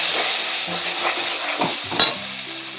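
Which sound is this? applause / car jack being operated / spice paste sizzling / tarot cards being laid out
spice paste sizzling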